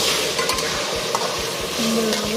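Vegetables fry in a hot pan with a steady, loud sizzle and spatter, broken by a few scraping stirs of a utensil.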